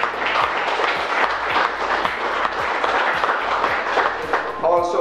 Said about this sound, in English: I will ask you to kindly give them all a round of applause